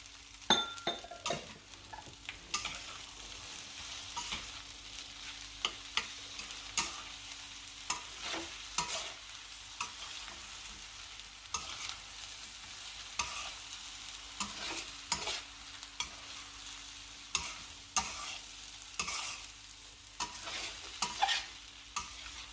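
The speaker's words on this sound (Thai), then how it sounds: "แล้วเราก็จะใส่สับปะรดลงไปนะคะ" Pineapple fried rice sizzles and is stirred in a frying pan, with repeated scrapes and clinks of a utensil against the pan over a steady low sizzle, close and continuous, without any speech.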